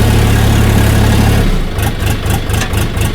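A DTZ HPX5244 mini tractor engine running loud and close in low gear, with a heavy steady drone that shifts into a rhythmic pulsing throb partway through.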